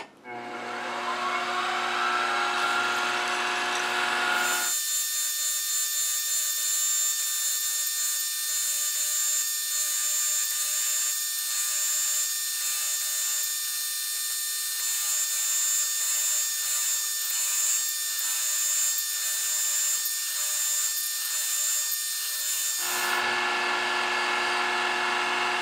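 Drilling a tapping hole through metal for a quill stop: a steady high-pitched drill whine starts, grinds on loudly and evenly for a long stretch, then returns to the lighter spin-up tone near the end.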